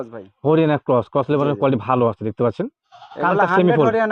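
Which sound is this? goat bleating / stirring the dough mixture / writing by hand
goat bleating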